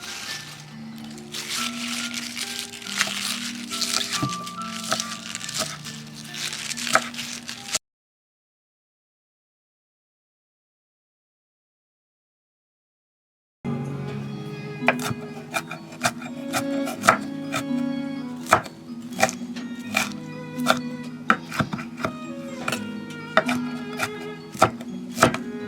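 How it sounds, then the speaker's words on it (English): Spinach is chopped with a knife on a cutting board, a string of crisp rhythmic blade taps interrupted by a stretch of dead silence before the chopping resumes, steady and close. "So, we're going to chop up our spinach."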